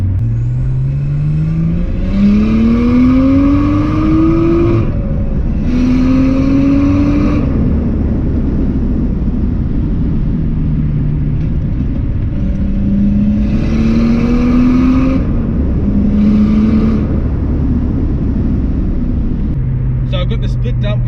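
A turbocharged RB25DET-swapped Nissan R32 Skyline engine with a stainless steel split dump revs repeatedly, each pull rising in pitch through the gears with a loud droning roar, separated by brief easing-off pauses.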